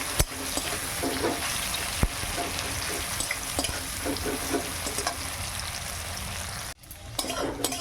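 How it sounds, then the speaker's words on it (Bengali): Onion and tomato frying in a pan with salt for a fish curry, a steady close sizzle with scattered pops and stirring scrapes, no talk, briefly dropping away near the end before resuming. "আমি ভালো করে এবারে পেঁয়াজ আর টমেটোটা ভেজে নেই।"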